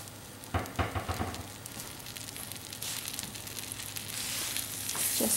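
Butter melts in a skillet over medium-low heat for a breadcrumb topping, giving a soft, steady, fairly quiet sizzle with a few light knocks near the start.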